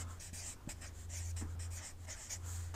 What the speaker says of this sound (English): I'll just write 2 Thessalonians